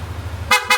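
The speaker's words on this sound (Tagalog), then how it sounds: "Busina ulit." Two quick, loud beeps from the stock horn of a Yamaha or Honda scooter, sounded close by after a moment of low idle hum.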